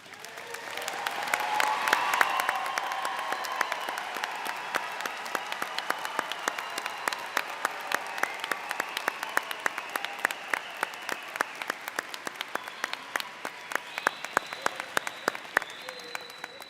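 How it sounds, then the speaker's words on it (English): Commencement audience at a college of agricultural sciences ceremony applauding steadily, a dense sustained clapping that swells early and then continues evenly throughout, with no talk over it. "as we applaud your success"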